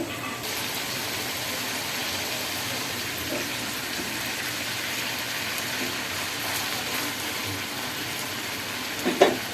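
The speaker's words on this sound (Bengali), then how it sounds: "এবার একটু পানি দিচ্ছি" A continuous hiss and sizzle comes from water added to a pan of shrimp curry with coriander leaves, steady throughout, ending with a small clink.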